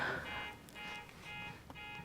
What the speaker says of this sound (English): somebody's alarm is going off